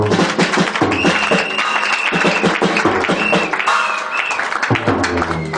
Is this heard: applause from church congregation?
yes